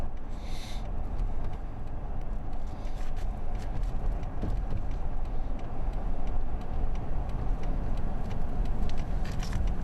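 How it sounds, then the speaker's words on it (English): Heavy trucks working a construction zone where gravel is being cleared from a creek, heard as a steady, dense low engine rumble throughout, with faint higher rattles and no talking. "my God, look at all the trucks back in there"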